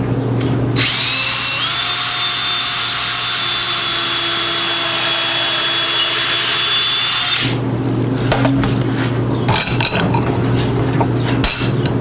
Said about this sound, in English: Let me grab that drill.